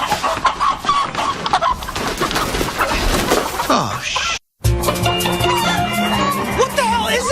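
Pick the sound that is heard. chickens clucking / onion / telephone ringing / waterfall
chickens clucking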